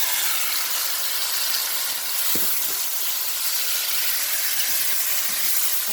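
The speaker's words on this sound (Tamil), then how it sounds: "இப்போ நாங்கள் உப்பும் புளித்தூளும் பிரட்டி இருக்கிற கணவாய போடுறேன்" Squid coated in salt and tamarind powder hits a hot pan and sizzles, a loud steady hiss, close and continuous, with a few light clicks of stirring.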